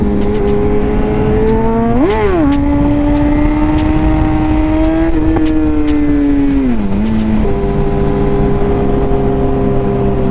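A Kawasaki Ninja H2 motorcycle with a worn rear tire revs loudly and steadily up close, its engine pitch climbing, holding, dipping and rising again in sustained surges with no talking.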